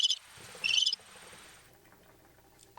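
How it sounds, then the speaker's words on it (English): A cricket chirp sound effect plays in two short bursts near the start, with another brief chirp at the very end, separated by near silence. "Definitely got crickets."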